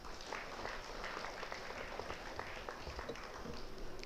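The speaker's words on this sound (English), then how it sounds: "Please welcome Mrs. Kumuda with a big round of applause" Audience applause welcoming the principal at a school felicitation event, a faint, distant wash of steady crowd clapping that carries evenly without a break.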